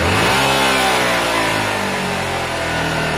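Close, loud revving of a Honda Varadero 125 motorcycle engine at half throttle, a steady harmonic engine drone that climbs and holds for a few seconds with no talking.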